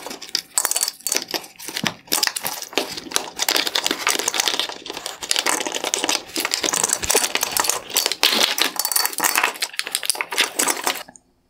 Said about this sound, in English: Next, I'll pull out the wire harness holding clips.